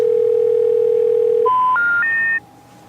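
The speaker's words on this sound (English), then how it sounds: "Mickey calls Goofy, but Goofy doesn't answer" A telephone dial tone hums steadily in a Mickey Mouse storybook reading, followed by a quick rising series of dialing beeps before the tone drops away to quiet.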